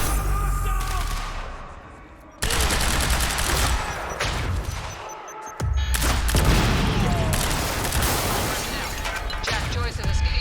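Heavy gunfire in the Quantum Break action game comes in dense, loud bursts of shots. It cuts off abruptly twice and then resumes, layered with crashes and game effects.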